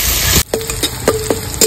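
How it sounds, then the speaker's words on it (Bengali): Chopped onion sizzles and fries loudly in a pan in a village kitchen, a steady hiss broken by a sharp cut, then several clinks and scrapes of stirring over continued frying. "পেঁয়াজটা একটু ভেজে নেব আমি, বেশি ভাজবো না, মিডিয়াম ভেজে নেব।"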